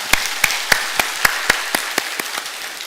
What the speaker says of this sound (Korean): 여러분 격려의 박수 해주시기 바랍니다